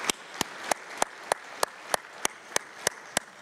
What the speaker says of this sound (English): Let's give everyone a round of applause for the great, great work.